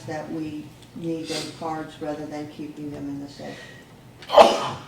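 A single sharp sneeze bursts out near the end during a city council meeting, loud and close, following a stretch of someone speaking at the table.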